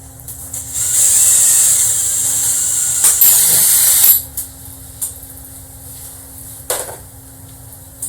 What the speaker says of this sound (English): got the 4 holes drilled